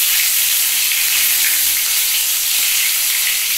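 Stuffed bitter gourd and pointed gourd fry in hot oil with a loud, steady, close hiss and sizzle that stays constant throughout.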